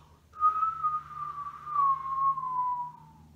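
A single clear whistled note, held for a few seconds and gliding slowly downward in pitch, close and alone in a quiet room.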